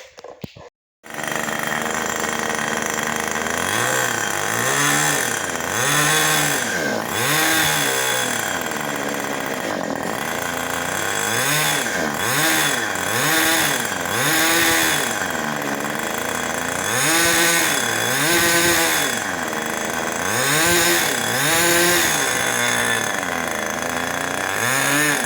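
A model airplane engine is spun by a starter and runs as a steady, loud, high-pitched buzzing drone for about 25 seconds, with the pitch rising and falling in repeated swells as it is throttled up and down.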